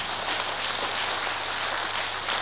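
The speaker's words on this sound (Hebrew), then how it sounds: "חברים, תנו להם כפיים." Steady, dense audience applause at a Yiddish festival, a continuous wash of clapping that holds evenly throughout with no voices on top.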